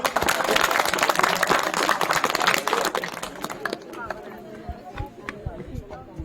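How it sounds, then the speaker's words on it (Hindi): Clapping from a gathered crowd at a community event handing out warm clothes to people in need, dense and loud for nearly four seconds before thinning into scattered claps and faint background voices. "तालियां"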